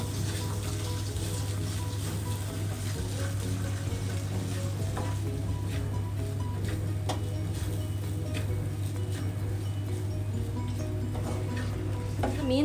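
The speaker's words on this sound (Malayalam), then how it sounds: "മീൻ നന്നായിട്ട് ഇളക്കി കൊടുത്തിട്ടുണ്ട്." Fish and masala stirred in a pan for tuna fish cutlets, a dense, loud, continuous sizzle with crackling pops and occasional scrapes of the spoon, no talking.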